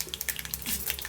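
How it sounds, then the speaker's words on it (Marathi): Water splashing into a hot cooking pan while making bitter gourd pathrade: a short close burst of splashing and bubbling with quick spattering crackles, no talking. "हां ते पटपट उदक घालता"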